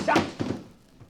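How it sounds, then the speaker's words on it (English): A bullet smashing through a window in a radio drama sound effect: a sharp thunk with a brief crash at the start, a second softer knock, then fading quiet, heard alone with no gunshot. "Bullet came through the window, but no gunshot."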